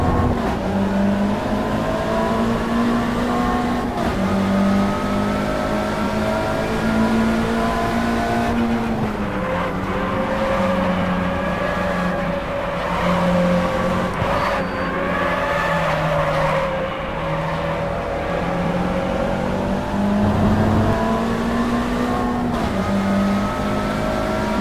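Race car engines in the Automobilista racing game roar continuously and loud, rising and falling in pitch through gear changes, with tire squeal and other cars audible throughout.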